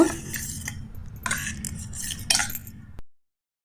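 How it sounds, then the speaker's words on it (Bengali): A spoon stirs wheat flour in a bowl while mixing batter for a children's egg recipe. It makes three soft scraping, clinking bursts in a quiet kitchen before falling silent. "ভালো করে নাড়াচাড়া করে নিয়ে আটাটা ভালোভাবে মিক্স করে নেব"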